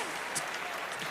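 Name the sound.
audience applause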